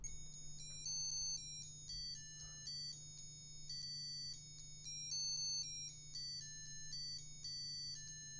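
Chiptune music plays from an 8-in-1 Mini Pets handheld device, a bright, beeping melody of short square-wave notes over a steady low hum, fairly quiet and without talk.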